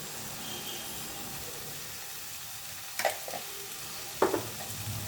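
Potatoes frying in oil with spices in a pan make a soft, steady sizzle, with two clear scraping clatters of stirring partway through.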